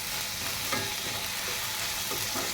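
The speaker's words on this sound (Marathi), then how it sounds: "टोमॅटो आपला भाजत आला." Tomato frying with onion in a pan, being mashed fine for paneer bhurji: steady close sizzle with occasional scraping stir strokes, no talk.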